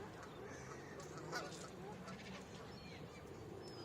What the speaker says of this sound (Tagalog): Maiingay po ang mga kalapati.